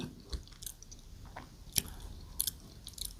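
Mouth sounds of someone eating a Thai stir-fried jackfruit dish (khua kling), with soft wet chewing and a few sharper crunchy bites scattered over a few seconds, close to the microphone with no talking.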